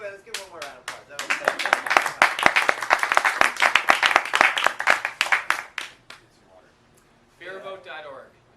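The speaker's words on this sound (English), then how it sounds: "let's give one more round of applause" A small outdoor Occupy gathering claps in a burst of applause that builds for several seconds and then fades, followed by a short stretch of someone talking.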